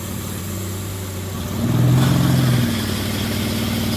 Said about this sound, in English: the AC compressor kicked on